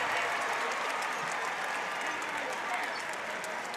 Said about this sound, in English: This crowd has been itching for something to cheer for all night.